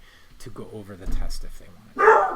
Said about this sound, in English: she started barking at something or anything